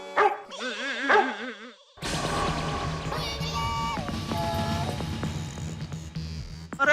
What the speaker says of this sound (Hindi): इनको देख के भौंक क्यों रहा है?